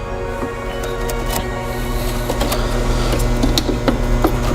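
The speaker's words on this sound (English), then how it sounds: "Go ahead and feed it into the feeder and drive rolls." A Welbee welder's wire feeder pushes wire through its drive rolls with a steady mechanical whir and hum, broken by light clicks and taps nearby.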